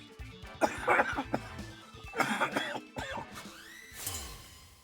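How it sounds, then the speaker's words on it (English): Several harsh coughs and throat-clearing bursts come in quick clusters close to the microphone, each short and raspy, with a brief breathy sound at the end and no talking. "I might have to edit out that cough."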